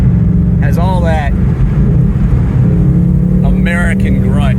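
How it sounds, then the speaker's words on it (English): Exhaust of a Bullitt Ford Mustang with a manual transmission while cruising, a loud, steady low rumble heard from inside, with someone talking briefly over it at the start and end. "I'm cruising around trying to give you a little exhaust sound here"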